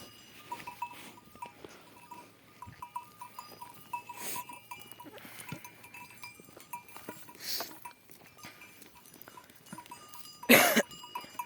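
Honamli goats and sheep graze on a mountain pasture, with scattered faint bleats, soft bell clinks and shuffling amid quiet outdoor ambience, and a brief louder burst near the end.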